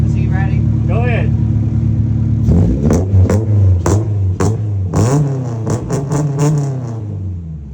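Honda Del Sol fitted with a budget 3-inch exhaust, revving in a series of sharp throttle blips that rise and fall after a steady idle, loud and close, with a voice talking over the start.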